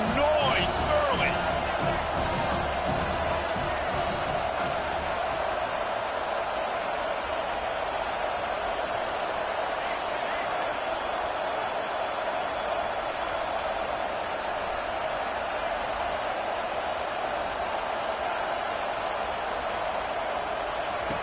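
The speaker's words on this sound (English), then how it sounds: "This crowd bringing the energy and noise early." A stadium crowd in the College Football 25 video game gives off a steady, broad roar that holds for about twenty seconds, with a few sharp thuds near the start.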